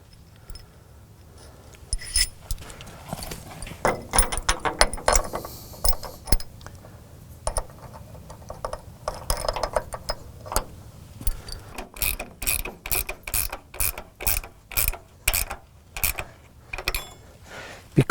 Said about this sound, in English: And then we've got the bolts to put in.